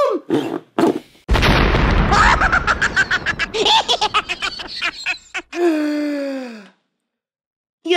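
An animated film's cartoon explosion booms loudly, with a broad blast that rumbles and decays over several seconds, followed by shorter bursts and a brief tonal sound at the end.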